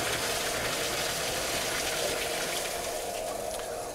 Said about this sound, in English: We drain the water from our sprinkler riser through the main drain on the base of the dry pipe valve.